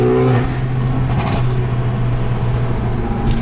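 A Mercedes A45 AMG fitted with a Milltek exhaust gives a short rev and then settles into a loud, droning engine note, with a few crackles from the exhaust breaking through near the start and again near the end.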